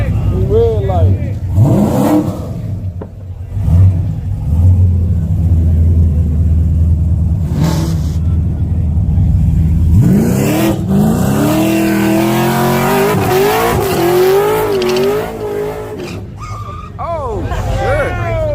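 A Camaro and a Corvette line up for a street drag race, their engines rumbling and revving hard before one launches with a rising roar, while excited onlookers talk and shout over the noise.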